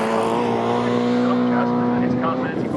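A classic race car roars past on the Snetterton circuit during a CSCC Mintek Classic K Series race, a loud, sustained engine drone with a steady pitch, heard close alongside a commentator speaking.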